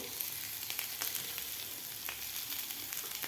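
Potatoes frying in a pan with kasuri methi for a spiced jeera aloo dish give a steady, close sizzle with small crackling pops, and no voices are heard.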